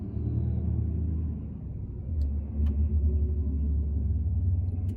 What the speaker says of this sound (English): truck rolling over. You probably can hear it.